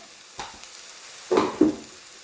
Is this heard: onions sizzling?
yes